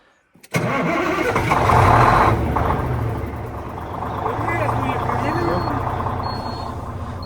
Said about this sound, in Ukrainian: Чутно як робить моторяка, класно.